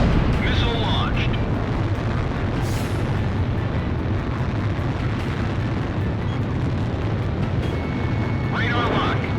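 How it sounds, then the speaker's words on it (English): Missile launch in the jet combat game Ace Combat Zero: The Belkan War, a loud sustained roaring rush of engine and exhaust noise filling the whole stretch, with brief higher whooshes near the start and end. "Missile launched."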